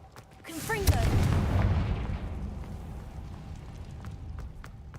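A Confringo fire spell blasts in Hogwarts Legacy on PS5 as a single loud burst with a bright crackling whoosh that fades over a few seconds into rumbling game ambience.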